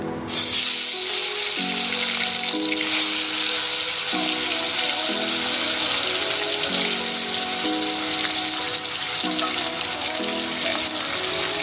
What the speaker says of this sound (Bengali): কড়াইতে তেল গরম হয়ে গেছে, এবার আমরা মাছটাকে ছেড়ে দিচ্ছি।